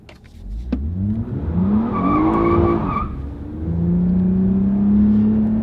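A Toyota Camry TRD in sport mode pulls away hard, its engine note climbing through rising revs, dipping at a gearshift near three seconds and then climbing again. The sound is loud, close and steady, with no talking.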